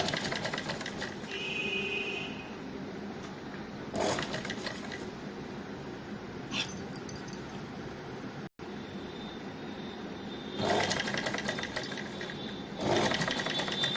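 A sewing machine stitches lined suit fabric in a steady, close mechanical whir that runs through the clip, rising louder in several bursts and briefly cutting out once, with no talk.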